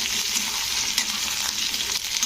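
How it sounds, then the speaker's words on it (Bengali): Potatoes fry with onions in a pan, a close, constant crackling sizzle with light stirring over the whole short stretch. "তো আলুগুলো পেঁয়াজের সঙ্গে একটু ভেজে নিতে হবে"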